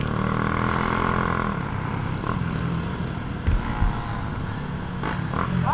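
Motorcycle without a rear fender rides past doing a wheelie, its engine droning steadily with revving surges and a couple of sharp bumps, heard loud and close among other traffic noise.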